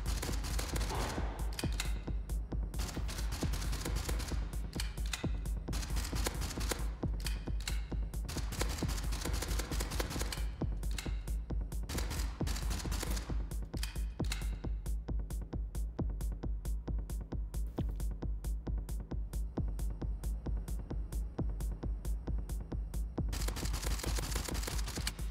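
Rapid gunfire from a hand cannon in the video game Gunpunk, bursts of sharp repeated shots and fast clicking fire packed densely together, loud and close, continuing nearly nonstop throughout with short gaps.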